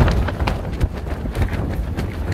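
Strong storm wind on a mountain hitting a tent, a loud, continuous roaring rush with gusty surges and flapping buffets throughout, close to the microphone with no speech.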